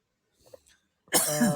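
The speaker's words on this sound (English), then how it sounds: "Look at him. Cough away." A faint throat noise, then one loud, harsh cough close up, raspy and drawn out, after smoking.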